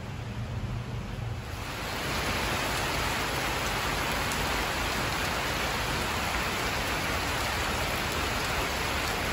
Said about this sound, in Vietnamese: Mưa nãy giờ trên nửa tiếng mà chưa dứt mưa luôn